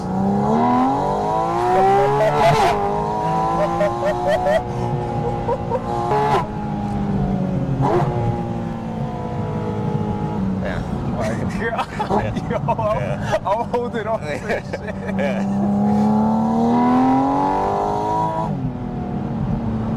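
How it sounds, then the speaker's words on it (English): A $165,000 car engine with its intakes right behind the seats revs and surges loudly from inside the cabin, pitch climbing and dropping in repeated pulls, while occupants talk and exclaim over it. "what you're hearing isn't the exhaust, it's literally just the engine."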